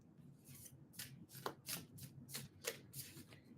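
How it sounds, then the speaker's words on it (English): A deck of cards is shuffled in a quiet room: about eight quick riffling bursts in a fast, even rhythm, close and soft, with no talking. "All right, 3 more shuffles."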